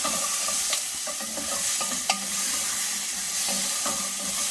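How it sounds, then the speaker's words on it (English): Onions and garlic sizzle steadily in a pot as the base for seafood bisque, with a spoon scraping and stirring in occasional sharp clicks over the continuous close frying hiss; no talk. "you got to keep stirring so that it doesn't burn, especially that garlic and onion"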